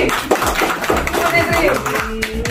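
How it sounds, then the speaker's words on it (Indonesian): Audience clapping for Budi Sri at a live stage event, a steady patter of hands kept under an ongoing loud voice over a microphone. "Berikan aplaus untuk Budi Sri"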